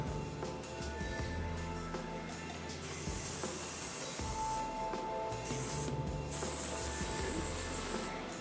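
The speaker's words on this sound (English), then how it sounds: "Working spray." Hairspray from an aerosol can sprayed onto hair as working spray during styling, a steady hissing spray that holds for several seconds at an even, fairly close level.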